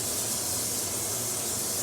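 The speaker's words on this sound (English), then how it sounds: "I'm gonna spray my baking dish" Cooking spray hisses steadily onto a baking dish while a chicken, broccoli and rice casserole is prepared, a continuous close, even aerosol spray with no talk.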